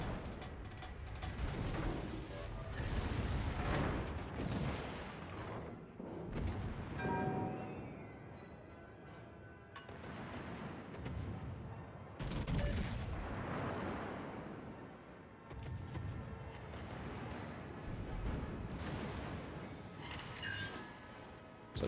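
Heavy naval guns firing in the World of Warships naval battle game, a Montana-class battleship in the fight, with repeated booming salvos and loud blasts rolling one into another over about twenty seconds.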